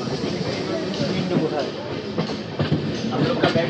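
An Amrit Bharat Express train switching from a loop line onto the main line, a steady rumbling roll with faint wheel clatter, heard from on board with people talking over it.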